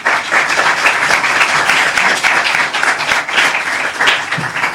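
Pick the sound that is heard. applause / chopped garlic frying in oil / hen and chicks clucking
applause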